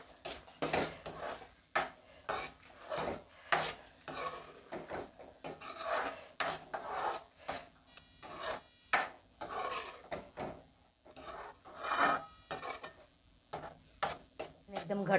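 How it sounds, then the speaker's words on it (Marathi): A spoon scrapes and rasps against the bottom of a pan as thickened milk is stirred for kalakand, rhythmic rubbing strokes close up and quiet, repeating steadily throughout. "मी हे सगळं सतत ढवळत हे घट्ट करून घेणार आहे"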